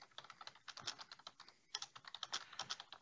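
Fingers type a description on a computer keyboard in a ship management software form, a quick, close run of soft key clicks with a short pause in the middle.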